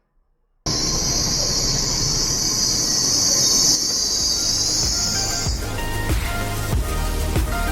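Train in Taiwan, arriving at Taidong from Taipei, rumbles loudly with a sustained high wheel squeal that cuts off midway, followed by rhythmic clicks and clunks of the cars rolling over the rails.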